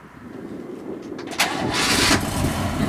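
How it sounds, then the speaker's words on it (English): A 1958 Chevrolet Impala engine cranks briefly, then catches and settles into a steady, close idle. "do you want to get behind the wheel and start this car?"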